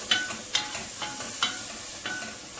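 Red and yellow bell peppers sauté in a pan with a soft, steady sizzle, broken by several sharp clinks of a utensil stirring at irregular intervals.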